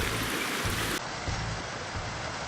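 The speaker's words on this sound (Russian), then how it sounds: "Обратно едем под дождиком." Rain patters steadily during a ride back through the mountains at Dombay, Russia, a continuous wet hiss over a low rumble that shifts abruptly about a second in.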